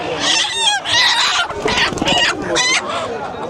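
Chickens and roosters crowded together at a riverside village morning market cluck and squawk loudly and continuously, many birds calling over one another at close range.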